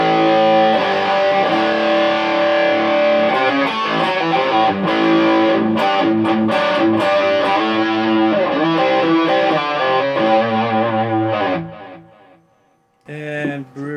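Electric guitar with a distorted dirt tone, played through a Jcraft Classic fitted with Musiclily parts: loud sustained overdriven chords and riffs that drop out briefly near the end before a short final strum.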